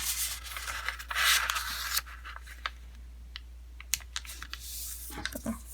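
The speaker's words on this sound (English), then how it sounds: "Now we're going to unfold and fold it diagonally in half" Paper for an origami football being handled, folded and creased sharply in close, quiet rustles followed by a series of crisp ticks and taps.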